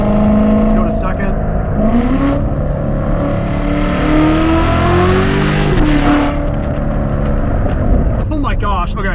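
A C8 Corvette Z06 engine revs hard and climbs through the gears, its pitch sweeping up and dropping at each shift, with a voice talking over it throughout.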